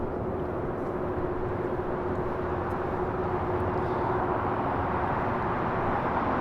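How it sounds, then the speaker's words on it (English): A Delta Airlines Boeing 767-400ER arriving at LAX from Atlanta makes a steady jet rumble with a faint whine, moderately distant and unbroken, with no voices. "This is Delta Airlines 898 coming in from Atlanta on a 767-400 ER."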